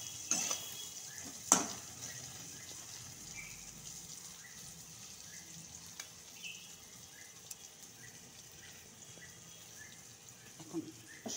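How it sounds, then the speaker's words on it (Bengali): Pieces of pointed gourd (potol) fry in oil in a pan with a soft, steady sizzle and crackle, punctuated by a few sharp utensil clinks and scrapes against the pan. "লাল করে ভালো করে ফ্রাই করে নিব।"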